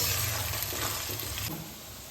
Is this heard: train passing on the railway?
no